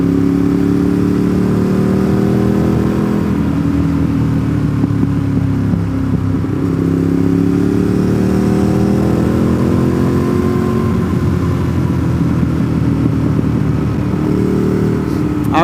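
A motorcycle being ridden on a chip-sealed country road near Deals Gap, a loud, steady engine drone with rising and falling pitch as it shifts and accelerates, heavy wind rumble throughout.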